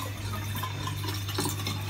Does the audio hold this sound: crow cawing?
no